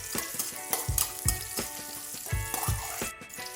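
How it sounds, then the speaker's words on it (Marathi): Finely chopped onion frying in a pan: a steady sizzle close by, broken by several scraping stirs from a spoon. "आणि हा कांदा आता मी दोन मिनिट चांगल्या प्रकारे शिजू देणार आहे"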